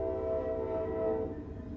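A train passes close by, a sustained, steady rumble with a tonal horn-like hum, loud and continuous with no talk over it.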